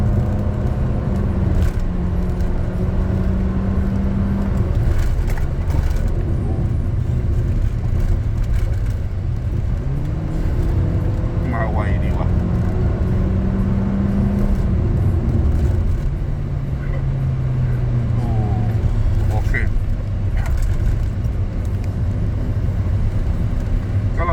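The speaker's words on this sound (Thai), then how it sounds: "อันนี้วิ่งน้ำมันนะฮะ ไม่ได้วิ่งแก๊ส ออกเกียร์นุ่มด้วย รอบมันขึ้น ไม่โอมแบบเดิมนะ" A remapped 2015 Toyota Altis 1.8 running on 95 petrol pulls through the gears while driving, its engine droning steadily with rising revs and brief dips at soft shifts, heard from inside the cabin.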